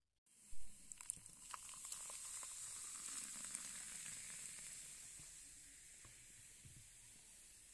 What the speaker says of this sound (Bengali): দেখো ইনোটা কত সুন্দর ফুটছে, পুরো দোকানের মতো